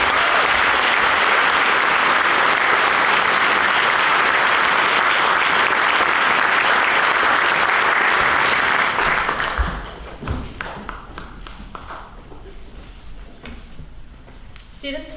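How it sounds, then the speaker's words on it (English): Audience applause for new National Honor Society inductees at a school induction ceremony, loud dense clapping from a large crowd for about ten seconds, then fading to scattered claps and room noise. "Give yourself a round of applause."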